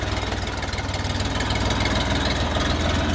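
A Xingtai 244 minitractor's small three-cylinder KM385 diesel engine idles close by with a steady, knocking low rumble and no voices.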